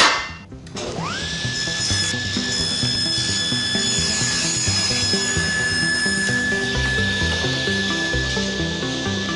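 A table saw notches a wooden cabinet drawer part, its blade whining at a steady pitch after a quick spin-up and running loud and continuous throughout, with no voices.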